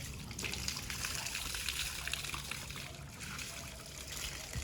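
Steady rushing water from a motor pump flows and splashes continuously, a broad gushing wash with no clear pauses.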